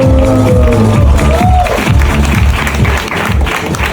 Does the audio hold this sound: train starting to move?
no